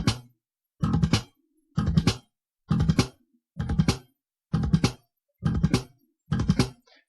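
Slap bass plays seven evenly spaced machine-gun triplets, each a rapid three-note rattle of clicks and plucks, crisp and close with short silences between.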